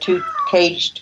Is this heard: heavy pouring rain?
no